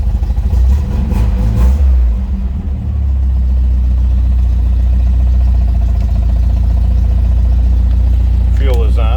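A 1976 Steyr-Puch Pinzgauer engine fires up and settles into a loud, steady low rumbling idle, close by, with a brief clatter near the end.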